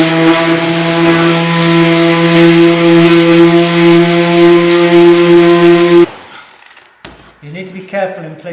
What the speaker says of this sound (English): With your orbital sander, you can go over all the edges.